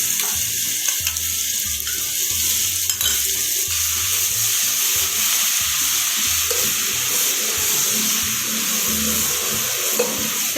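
Garlic frying with onions in a pan gives a steady close sizzle throughout, with soft stirring and scraping bumps across it and no talk.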